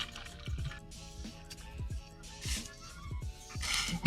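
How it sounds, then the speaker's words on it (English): Soda water is poured into a glass, giving quiet close-up splashes, drips and fizzy bubbling in short bursts. "And I get the soda water."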